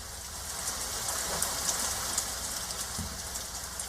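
Steady rainfall used as a radio drama sound effect gives a dense, even hiss with scattered patter of drops and no voices.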